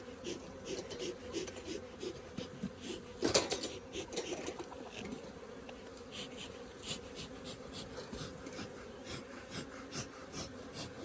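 Honey bees buzz around an opened Flowhive during a hive inspection, a soft continuous drone mixed with scraping and rubbing of frames and wood, with one louder knock partway through.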